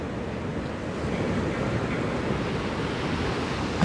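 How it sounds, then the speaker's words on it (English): Wind buffeting a microphone on a windy beach over a steady wash of surf, a constant broadband roar with no speech. "There's some challenges out here on this windy beach today."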